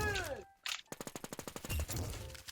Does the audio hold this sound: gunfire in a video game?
yes